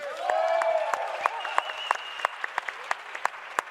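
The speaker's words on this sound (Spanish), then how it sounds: "les pedíamos un gran aplauso" At a conference, an audience applauds a speaker's introduction, with crowd clapping over background music, then thinning into scattered separate claps toward the end.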